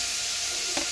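Food sizzles loudly in a frying pan on a home stove, a steady hiss with a quick scrape of stirring just before the end.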